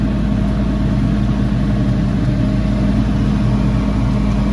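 Tractor engine running steadily as heard from inside the cab, a loud, constant low drone with a dense rumbling texture and no voices.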